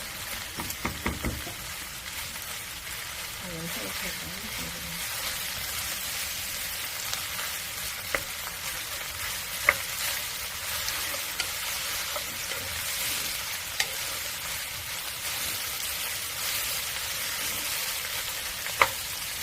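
Vegetables stir-frying with thin-sliced pork belly bulgogi, a dense continuous sizzle like steady rain, nearby, with occasional sharp utensil clicks against the pan and no talking.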